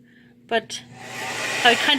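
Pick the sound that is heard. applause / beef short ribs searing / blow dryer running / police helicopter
blow dryer running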